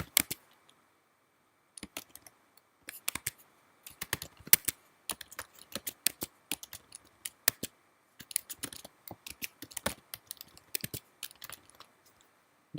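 Bursts of quick, close computer keyboard typing filling in client fields, separated by short silent pauses, with no voices.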